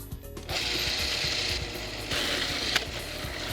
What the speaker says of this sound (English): grind these ingredients to a smooth paste in a food processor, or you can pound them by hand in a mortar with a pestle